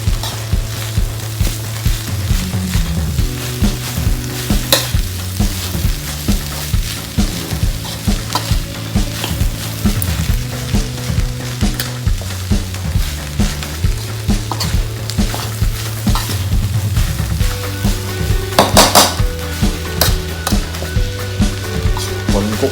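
Freshly grilled field rat meat stir-fries with holy basil in a pan, a loud continuous sizzle with rhythmic spatula scrapes and clatter over a low steady hum, lasting throughout with no talk.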